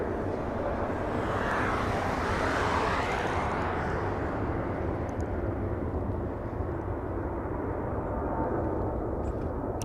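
An airliner arriving at LAX makes a steady, broad jet roar at moderate distance. The roar swells slightly and then eases, with light wind noise and no talk.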